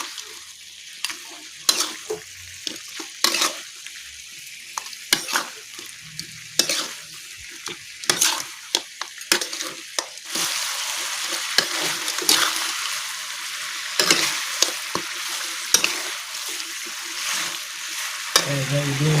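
Chicken frying in yellow spice paste with shallots and garlic is stirred in a pan, a continuous sizzle broken by repeated scraping and clanking of the spoon against the pan, close and fairly loud.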